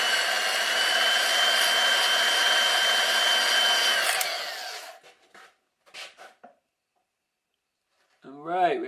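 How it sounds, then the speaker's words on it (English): A drill-driven hone whirs steadily for about four seconds while honing engine lifter holes, then winds down and stops, followed by a few short scraping bursts and a voice speaking near the end. "we're honing out these lifter holes"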